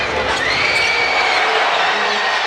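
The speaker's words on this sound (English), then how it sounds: "They're screaming for Yuki to shoot this." An NBA basketball arena crowd roars and screams continuously, a dense wall of cheering with whistles rising through it, loud and sustained for the whole moment.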